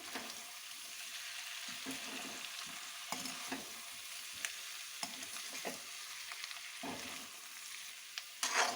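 Spiced dry potatoes sizzle steadily in a hot pan while a spoon stirs and scrapes through them, with a few sharper scrapes and a light clatter near the end, and no voices.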